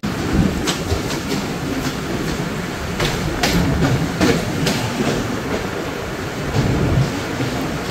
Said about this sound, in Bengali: এই মুহূর্তে ট্রেনটা প্রবেশ করলো রাজশাহী বিশ্ববিদ্যালয় স্টেশন